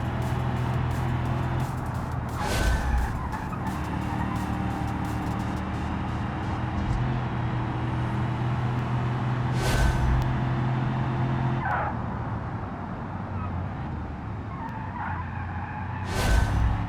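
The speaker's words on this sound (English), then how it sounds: "Use some throttle to help that rear end slide" In the BeamNG driving game, a car's tires squeal and skid as the rear end slides under throttle, over a continuous engine drone, with sharp screeching bursts recurring every few seconds.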